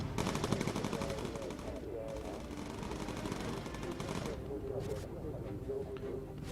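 Rapid bursts of gunfire from a bomber's guns in the video game Bomber Crew, firing at enemy planes in a dense, continuous rattle that stays loud throughout.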